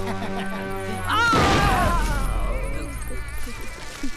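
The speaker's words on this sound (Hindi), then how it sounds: "बाहर बाराती पटाखे फोड़ रहे हैं" Firecrackers set off outside by wedding guests, one loud sharp burst with crackling that decays over a few seconds, following music with a steady tone beforehand.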